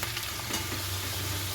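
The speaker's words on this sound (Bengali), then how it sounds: "দেখো আলু কিন্তু লাল লাল করে ভাজা হয়ে গেছে।" Potatoes frying in oil in a pan, a steady close hiss and crackle with light stirring, brief and unbroken with no voices.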